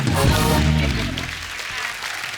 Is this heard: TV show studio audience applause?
yes